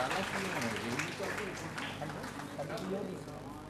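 Applause from an audience at a school merit award ceremony for class 12 students, sustained dense clapping at a steady level throughout, while a speaker talks over it.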